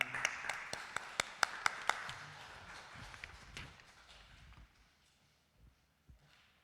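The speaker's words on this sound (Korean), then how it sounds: "우리 박수로 맞이하겠습니다." Church congregation at a Friday worship service gives a short round of applause welcoming the praise and dance team, a few sharp claps fading quickly into scattered faint taps.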